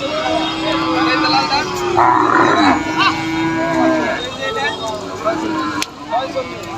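Cattle low and moo repeatedly at the Garbari cattle market in Tangail, Bangladesh, after Eid, with people talking loudly around them while bargaining prices.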